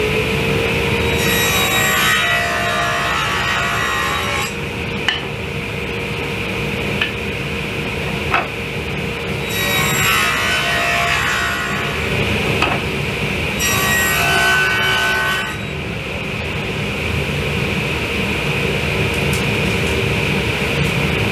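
A saw cuts wooden rails for a kitchen island, producing repeated bursts of bright rasping cutting over a constant background hum, with short pauses between the passes.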